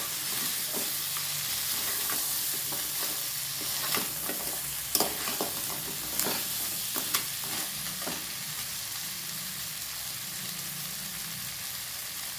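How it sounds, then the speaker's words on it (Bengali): Crabs for a spicy crab curry being stirred and frying in a pan, with a steady sizzle under scraping stir strokes and a few sharper clinks of the utensil against the pan. "এবার আমি কাঁকড়াগুলো আবারও দিয়ে দেব আবারও একটু নাড়াচাড়া করে নেবো"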